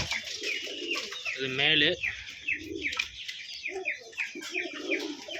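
A pair of Roller pigeons coos close by in a series of soft, throaty calls mixed with a few chirps, while someone talks over them.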